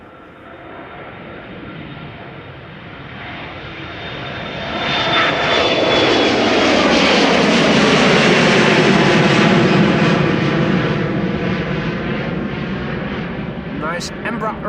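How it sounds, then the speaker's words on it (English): A KLM Embraer 175 jet departing Amsterdam Schiphol Airport: a loud, broad engine roar swells over several seconds, holds at full strength and then eases slightly as it climbs away. "Nice Embraer 175 from KLM"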